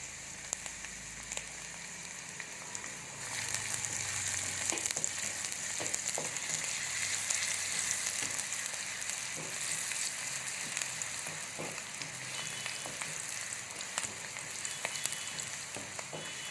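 Finely chopped large onion fries in a pan for a lasagna sauce, giving a steady close sizzle and crackle with occasional clicks of stirring throughout, and no talking.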